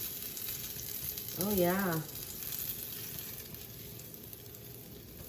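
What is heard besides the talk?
chicken sizzling in a hot pan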